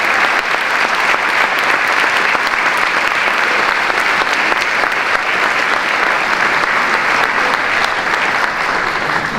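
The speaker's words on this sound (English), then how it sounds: "one last round of applause for our 2019 Wakefield" A school auditorium audience at a 2019 Wakefield High School senior athletic awards ceremony gives a long, steady round of applause, dense clapping holding at an even loud level throughout with no talk over it.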